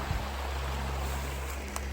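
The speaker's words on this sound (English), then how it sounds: "Conneaut Creek is definitely moving good." Conneaut Creek near a covered bridge flowing fast, a steady, fairly loud wash of rushing water with a low hum beneath and no speech.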